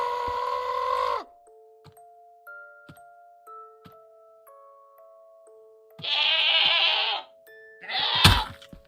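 In the modded Minecraft pack StoneBlock 4, a goat bleats three times: a long bleat, then two more after a pause. Soft chiming tones play in between, and there is no talk.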